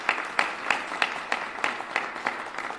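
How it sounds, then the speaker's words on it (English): A modest audience at a civic event in Milwaukee claps steadily, a light scattering of hands rather than a large roar. "that's a cause for a round of applause for all of you"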